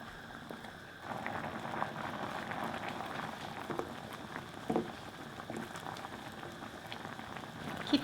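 Rosé tteokbokki simmers in sauce in a pan over medium-high heat with a soft, steady bubbling and popping patter, a few louder pops now and then, and no talk.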